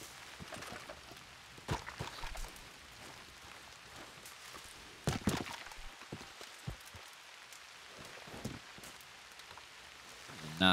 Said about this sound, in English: Ooh, starting to rain heavy.